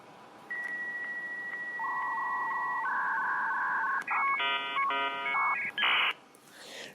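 A dial-up modem connects to the internet, opening with a steady dial tone, then a quick run of telephone keypad tones, followed by the rising handshake screeches and warbling bursts, loud and alone.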